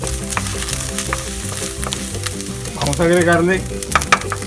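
Precooked beans hit a hot pan over a wood fire in a ranch kitchen, giving a close, continuous sizzle with occasional stirring scrapes, with music audible in the background.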